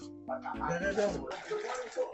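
Water is scooped by hand out of a clogged washing machine, giving continuous sloshing and splashing with bright trickles, close and fairly loud, over a low hum.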